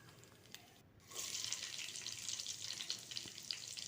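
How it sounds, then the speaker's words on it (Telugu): After a quiet second, a bright sizzle bursts up as chopped onions hit a few spoonfuls of hot oil, then holds as a steady, close frying hiss. "two three table spoon oil వేసి ముందుగా కట్ చేసి పెట్టుకున్న ఆనియన్స్ వేసి బాగా డీప్ ఫ్రై చేసుకోవాలి"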